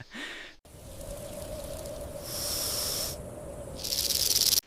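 A rattlesnake shakes its tail in a dry, buzzing warning rattle that comes in two sustained bursts, the second louder, over a faint steady hum.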